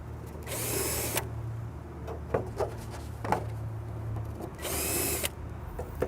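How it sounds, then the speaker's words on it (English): Two loud bursts of a power drill whining close by as it drills holes in car bodywork, each about a second long, separated by clicks and light handling noises. "Now you'd always drill on both sides and clean the other side up on the opposite?"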